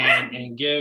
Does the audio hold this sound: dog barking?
yes